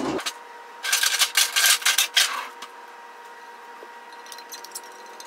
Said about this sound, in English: Just going to use a little bit of a spatula to finish it up.